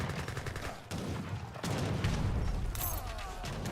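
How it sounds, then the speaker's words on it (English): Gatling camels firing in an Age of Empires 3 battle, rapid bursts of gunfire rattling in dense volleys with booms and clatter, loud and continuous across the moment. "Gatling camels firing away."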